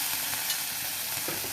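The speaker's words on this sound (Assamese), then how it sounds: "তাৰপিছত মাছখিনি ফ্ৰাই কৰি ল'ব" Dried fish frying in hot oil in a wok, a dense close sizzle with faint stirring scrapes throughout.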